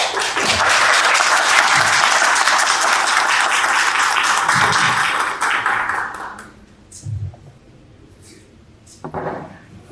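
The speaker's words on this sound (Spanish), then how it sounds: "Y un aplauso a nuestros ponentes." An audience at an academic seminar applauds steadily for several seconds, then the clapping dies away, leaving a few scattered taps and quiet room noise.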